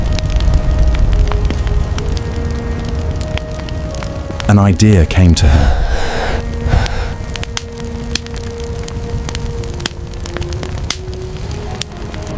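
A crackling prehistoric campfire that pops and snaps steadily under a narrator's voice, with a low rumbling swell midway and a soft musical drone behind.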